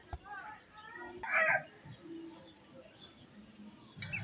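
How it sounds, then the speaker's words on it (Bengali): A young desi rooster, about five or six months old, gives one short crow in a yard among other chickens, followed by scattered clucks and faint background noise. "এই যে দুইটা মোরগ দেখতেছেন"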